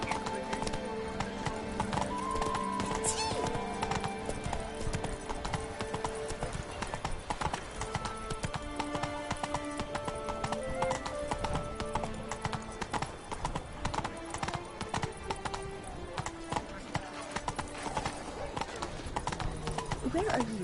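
A horse in the video game The Witcher 3 clip-clops along in a steady rapid gallop for about twenty seconds, with occasional whinnies, while characters talk over the hoofbeats.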